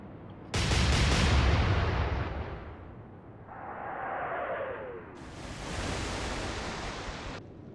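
Naval guns firing high explosive shells in Atlantic Fleet, a heavy boom opening into a long rumbling roar, then a descending whistle and a second broad blast, with no talking.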